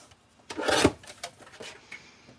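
A paper trimmer cuts craft card down to size in one short rasping slide lasting about half a second. A few faint scrapes and taps follow.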